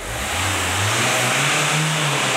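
A car engine revs hard in abrupt throttle bursts, its pitch climbing and holding high, loud and close with no voices.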